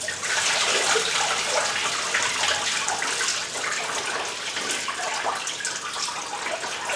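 Prestone coolant running out of a 2010 Cadillac CTS water pump into a drain pan, a steady, fairly loud splashing trickle with no talk.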